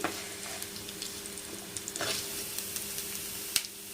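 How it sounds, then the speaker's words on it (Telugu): Urad dal and ginger frying in a pan for a hotel-style ginger chutney, giving a quiet, steady sizzle with light crackles and a few sharper pops throughout. "మినపప్పు అనేది ఇలా గోల్డ్ కలర్ వచ్చేంత వరకు వేయగాలి అల్లం కూడా పచ్చివాసన లేకుండా ఇలా వేయించుకున్న వేయించుకోవాలి"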